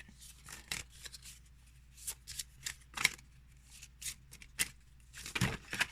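A stack of about 15 oracle cards is shuffled in quick, crisp bursts of riffling and slapping, repeated in an irregular rhythm close up.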